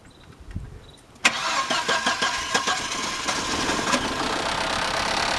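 A 2004 Volkswagen Passat engine cranks and catches after a quiet start, then settles into a loud, close, rough idle with some uneven pulses and no talking.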